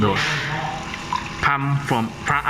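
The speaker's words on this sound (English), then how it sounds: "So in few seconds later, the water will pump out" A small water pump in a programmed demonstration setup pushes water out in a steady running stream, close and moderately loud, with a voice over it in brief bursts.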